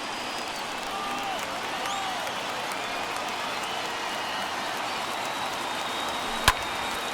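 A stadium crowd in the MLB The Show baseball video game roars steadily and evenly, with a sharp crack near the end, while a commentator talks.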